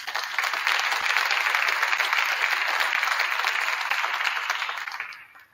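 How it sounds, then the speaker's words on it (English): Sustained applause from an audience at a state wrestling celebration, a dense steady wash of many hands clapping that holds for several seconds before tapering off at the end. "I think these guys deserve another round of applause."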